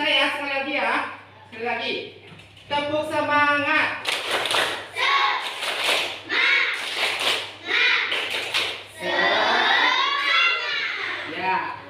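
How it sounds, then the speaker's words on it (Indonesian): Young pupils in a classroom perform a rhythmic clapping chant, children's voices chanting alongside repeated crisp claps that fall into a steady pattern before the chanting voices carry on alone. "Oke, bisa ya sekali lagi ya. Sekali lagi. Tepuk semangat."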